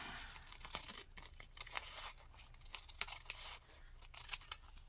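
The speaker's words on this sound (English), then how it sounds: "I need a longer pair of scissors when I'm cutting that far." Close scissors snip and rasp through paper in a quick run of cuts, with faint crinkling and no voices.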